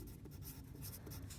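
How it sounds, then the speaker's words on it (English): A pen or pencil writes on paper during a math worksheet lesson, with steady close scratching strokes and short lifts between them, and no voices over it. "I'm gonna write the word and"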